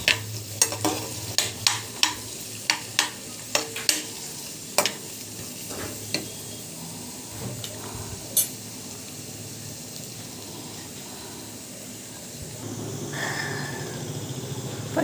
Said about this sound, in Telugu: ఆయిల్ వేసి వేపుకోవాలి. గోల్డ్ కలర్ వచ్చే వరకు వేపుకోవాలి.